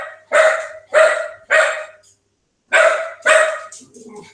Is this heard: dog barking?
yes